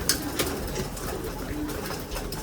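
Pigeons coo softly at feeding time, low repeated calls rising over a busy background of fluttering and shuffling, with a few sharper taps close by.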